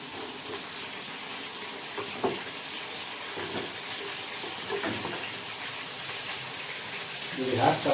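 Cassava pieces frying in hot oil give a steady, soft sizzle throughout, with a few faint clinks and stirring bumps near the end.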